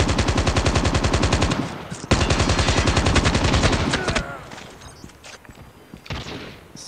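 Rapid automatic gunfire from the COD Mobile video game in free-for-all play, loud and close in two long sustained bursts, then scattered fainter shots and clatter.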